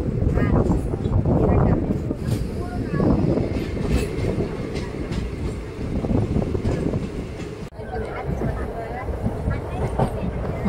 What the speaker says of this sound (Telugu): మన ట్రైన్ వచ్చేసి ఇప్పుడు ఉప్పుటేరు కెనాల్ అయితే క్రాస్ చేయబోతుంది